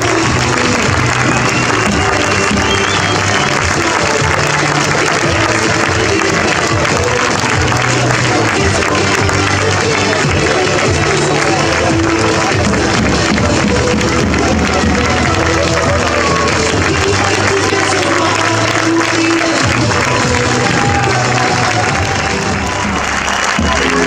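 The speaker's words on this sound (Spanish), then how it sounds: "Por favor, fuerte aplauso para ellas." A large crowd applauds and cheers rowing crews at a regatta in Castro Urdiales, a dense, loud wash of clapping that holds steady throughout with a little voice mixed in.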